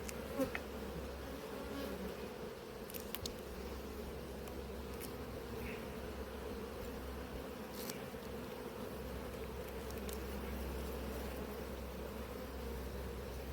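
Honey bees buzz steadily inside an apiary hive during an inspection, a dense continuous drone close by with occasional individual bees passing nearer.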